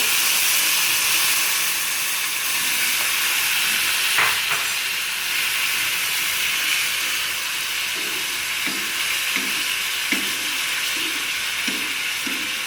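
Egg frying in a pan with spices added on top, giving a steady, close sizzling hiss that runs throughout with faint clinks near the end.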